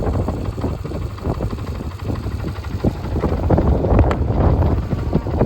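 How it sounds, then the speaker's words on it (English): A four-wheeler ATV engine runs at a steady idle outdoors on a ranch, a rough continuous low rumble mixed with wind buffeting the microphone and no talk. "We picked this four-wheeler up last summer."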